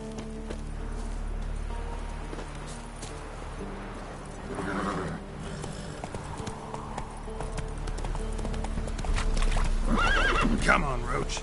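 Roach the horse in The Witcher 3 clip-clops steadily throughout, with a neigh breaking through near the end over a game music bed and a voice speaking in places.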